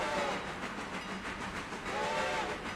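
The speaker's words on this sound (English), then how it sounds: "It's nice that the AI whistles for the crossings now." In the train simulator Railroader, the steam whistle of a Mikado locomotive hauling a coal drag sounds a wavering, moderately loud tone at a grade crossing over a steady hiss and rumble of the moving train.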